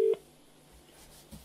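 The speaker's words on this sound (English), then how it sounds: "I just have one more phone call to make here." A telephone number is keyed in, heard as a single short dialing beep at the very start followed by near silence.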